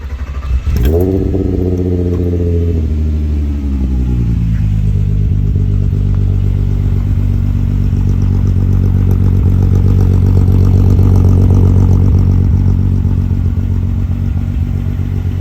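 Car engine cranking over and catching near the start, then settling into a steady, loud, close idle that runs on with a low constant rumble and light mechanical clatter, no talking.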